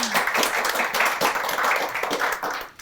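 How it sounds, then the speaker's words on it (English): An indoor audience gives a keynote speaker a round of applause, dense steady clapping from many hands that fades out after a few seconds. "big round of applause then"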